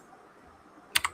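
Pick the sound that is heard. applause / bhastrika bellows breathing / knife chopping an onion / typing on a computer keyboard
typing on a computer keyboard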